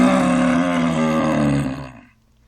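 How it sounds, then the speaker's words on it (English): A monster in a tabletop game lets out a loud, sustained bellowing roar, deep and rough, that holds for nearly two seconds and then fades away into quiet. "So he lets out a loud, bellowing roar"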